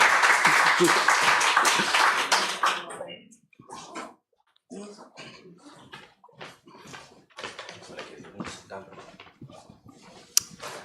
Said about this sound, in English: Please give a round of applause to our poetas